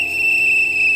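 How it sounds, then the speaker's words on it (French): A single whistle blown in one steady, piercing, unbroken tone that holds at a constant loud level for about a second, with no voices. "il faut donner un coup de sifflet"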